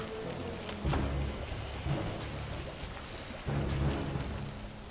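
Disruptor's thunder ability in Dota 2 cracks through as a few heavy, rumbling broadband bursts over a steady din of game noise, with no one talking.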